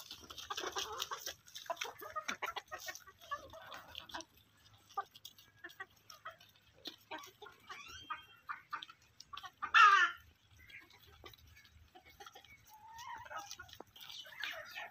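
Hens and a rooster in a Punjab, Pakistan village yard give scattered clucks and calls at moderate distance, with one louder squawk midway amid light background activity.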